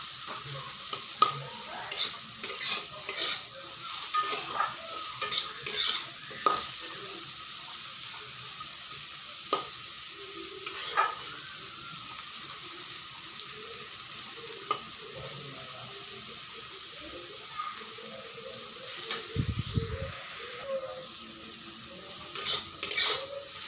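Pumpkin slices fry quietly in a pan while a utensil stirs them, making repeated scraping clicks over a low sizzle, with a brief dull knock near the end.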